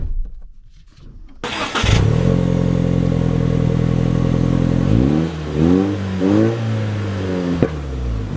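A 2024 Toyota Tacoma TRD Off-Road starts up and accelerates, its engine rising to a steady loud drone, then revving through several gear changes with rising and falling pitch.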